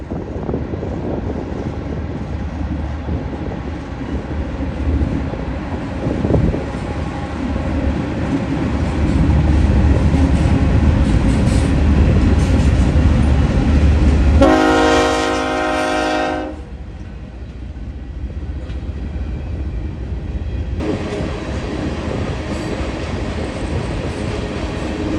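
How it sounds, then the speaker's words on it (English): A CSX local freight train led by locomotive CSX 1897, the Monon Heritage Unit, rumbles steadily past on the Toledo Sub, with a loud horn blast partway through and continuing wheel and car noise afterward. "In the lead today is CSX 1897, the new Monon Heritage Unit."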